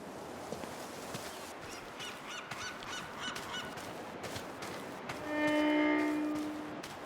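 Corvus picatrix, a crow-like bird in the video game Broken Pieces, gives a loud, drawn-out caw near the end over steady ambient game noise, after a stretch of fainter background sound.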